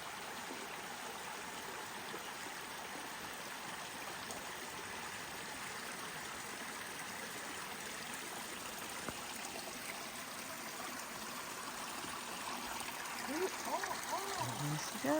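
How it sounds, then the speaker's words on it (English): Stream water rushing over rocks at a trail crossing on the Appalachian Trail, a steady broadband wash of flowing water throughout, close and continuous, with a slight swell near the end. "One of our pretty little water crossings today."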